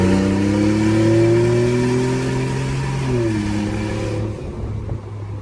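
A warmed-up Ford EcoBoost pickup engine revs hard under acceleration, with a loud, steady climbing drone that shifts pitch partway through and then settles as the truck keeps running.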